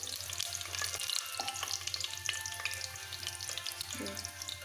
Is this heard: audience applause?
no